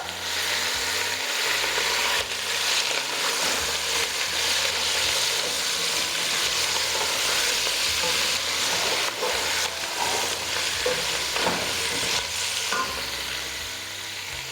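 Beef pieces frying in hot oil with onion, ginger and garlic for pulao, a loud continuous sizzle and hiss with scraping, stirring noises throughout, close up and steady.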